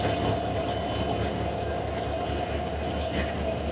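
Hyundai Rotem diesel-electric meter-gauge locomotive, number 3016, hauling the Rangpur Express in Bangladesh: a steady, loud rolling rumble with a constant engine drone and faint wheel clatter, holding even throughout with no talk.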